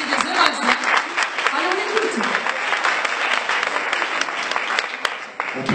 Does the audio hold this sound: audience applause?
yes